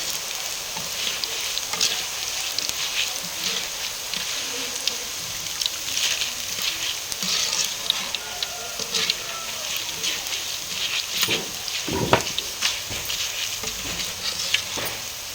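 Boondi batter dropping into hot oil for spicy Sankranti kara boondi, giving a steady bright sizzle and crackle throughout, with a few louder spatters near the end and no talking.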